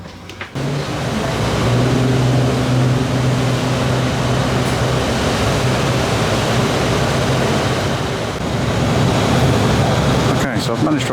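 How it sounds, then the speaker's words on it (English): Aboard a Hong Kong passenger ferry, a loud, steady rush of engine drone and water noise runs continuously after a brief quieter start, with a faint clatter near the end. "So we're on the ferry."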